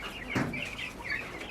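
Chickens on a poultry farm, a few soft clucks and short chirpy calls close by, over a quiet background.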